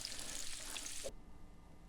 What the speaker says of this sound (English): frying a single sausage